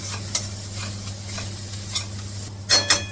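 A spoon stirring food in a pan over a low sizzle, with a few sharp scrapes and clinks near the end, no voices.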